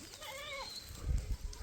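A flock of sheep and goats passing on a route, with a short bleat up front followed by faint shuffling and low thumps of hooves, quiet and brief.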